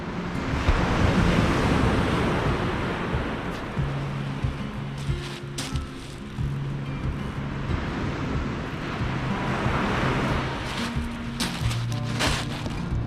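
Surf rolls in on the Holderness coast of England during a spring sea-fishing outing, steady roaring waves mixed with gusty wind buffeting the microphone, continuous and fairly loud throughout.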